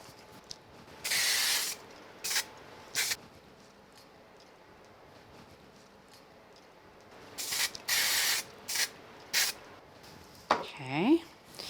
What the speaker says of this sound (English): So let's use some spray glue.